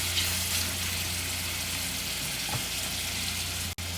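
Prawns frying in oil in a wok for Char Koay Teow give a steady, fairly loud broadband sizzle with a constant low hum beneath, briefly cut off near the end.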